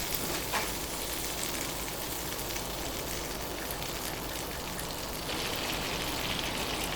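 Butter melting in a saucepan while being stirred continuously, giving a steady, close hiss and soft crackle that runs unbroken and fairly quiet throughout.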